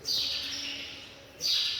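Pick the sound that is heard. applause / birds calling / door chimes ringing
birds calling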